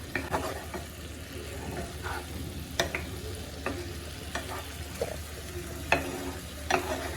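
Chicken roast pieces stirred in a pan with a few green chilies, producing irregular scraping spoon strokes and clacks over a low, steady sizzle, with no talking.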